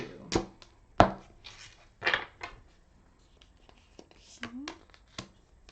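Tarot cards shuffled up close, a handful of sharp papery slaps and quick riffles at an uneven pace, with soft rustling between them.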